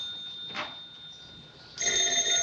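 A telephone rings in a 1936 film, a thin high electric bell tone that bursts in loudly near the end after a quiet stretch with a steady high hum and a brief soft rustle, with no voices.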